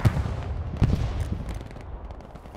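Gunfire in the World War II shooter Hell Let Loose: two sharp, loud reports about a second apart, each trailing into a rumbling echo that fades away, with no talking.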